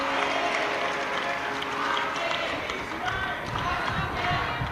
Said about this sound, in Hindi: एक बार यजमान परिवार के लिए जोरदार ताली बजाकर उनके लिए साधुवाद करें